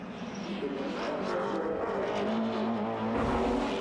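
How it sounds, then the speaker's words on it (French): Supertourisme touring cars launch from the grid at Le Castellet in 1997, a dense, continuous roar of racing engines heard behind a commentator's voice. "Au départ de la première course du week-end, Herbert et Quérol s'élancent donc de la première ligne"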